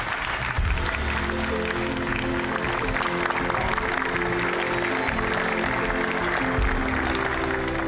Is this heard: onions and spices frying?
no